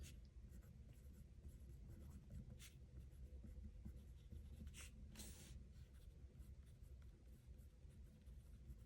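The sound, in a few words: pen drawing a checkbox in a notebook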